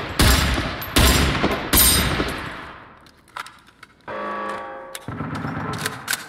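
Enemy weapon fire from the video game Generation Zero: three loud bursts of machine-gun fire crack out at the start, followed by quieter scattered shots and a sustained mechanical whirr, with no voices.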